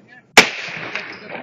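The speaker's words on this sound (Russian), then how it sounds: "С первого этажа стреляет, с того угла." A single loud, sharp gunshot cracks nearby during a street battle in Debaltseve, Ukraine, followed by a long echoing tail off surrounding buildings.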